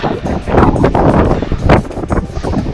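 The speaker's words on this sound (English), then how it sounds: "Still windy." Steady wind buffets the microphone on a long trail run, a loud broadband rush that swells and eases in gusts without a break.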